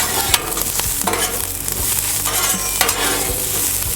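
Onions frying on a Blackstone griddle and being turned, loud close sizzling with sharp repeated scrapes and clanks of a spatula against the flat-top, no talking.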